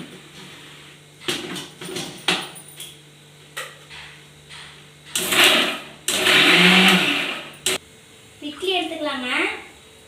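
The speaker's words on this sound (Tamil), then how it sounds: "மிக்சியில் போட்டுக்கலாங்க." A kitchen mixer grinder blending coconut chutney with salt, heard in short loud bursts of whirring roar, the longest lasting about two seconds, mixed with clatter and a woman's speech.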